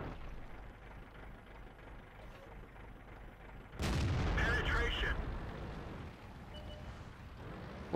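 A tank cannon fires in the World of Tanks video game, a single sudden loud boom that rings out and decays over a couple of seconds above faint background ambience.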